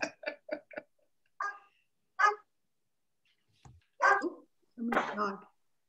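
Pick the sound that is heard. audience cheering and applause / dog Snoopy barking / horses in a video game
dog Snoopy barking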